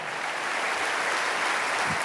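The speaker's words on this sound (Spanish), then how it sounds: "Ese aplauso tiene que ser gigantesco" A church congregation applauds, a dense, steady wash of many hands clapping at once, fairly loud and continuous with no voices over it.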